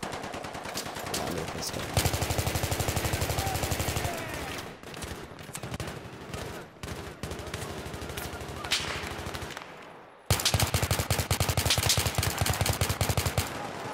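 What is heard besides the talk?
gunfire in a video game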